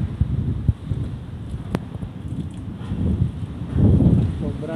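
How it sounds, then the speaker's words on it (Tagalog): Gusty typhoon wind buffets the microphone with a low rumble that swells and fades, strongest near the end; a brief click and some background sound break through. "Ganun kalakas ang hangin namin dito"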